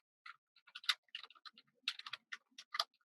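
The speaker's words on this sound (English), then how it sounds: "Let me try typing it in as well." Quick, uneven bursts of typing on a computer keyboard, an email address being entered, with crisp clicky keystrokes close by and short pauses between clusters, no talking.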